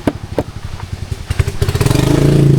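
Motorcycles, including scooter-type bikes, pass close by at a campsite in Tanay, Rizal, their engines rumbling and rising in pitch as they rev and approach, loud and near with clattering mechanical noise.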